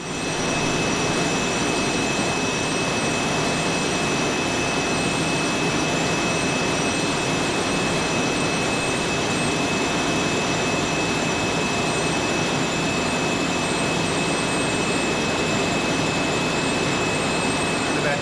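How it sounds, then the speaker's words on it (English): A 1956 American-built Dandy Rover wool spinning machine winds yarn onto its spindles, giving a loud, steady mechanical drone with a constant whine that runs unbroken throughout, with no talking. "This machine is called a Dandy Rover"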